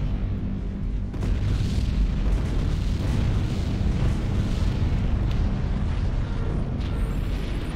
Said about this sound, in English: And there you hear the underwater explosions.